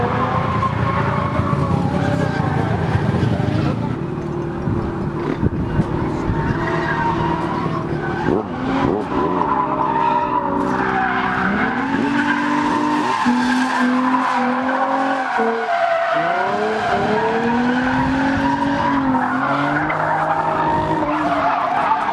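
A pickup truck drifts with tires skidding and squealing, long wavering screeches over a loud engine that keep going without a break.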